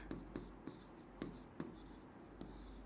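Chalk or a marker taps and scratches against a classroom board in short irregular strokes, close and faint, over a low steady hum.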